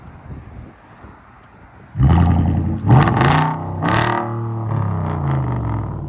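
A 2012 Hyundai Genesis 4.6L V8 running Dynomax Bullets with a muffler delete idles quietly, then erupts into loud, raspy revs that roar twice and settle into a deep, steady drone nearby.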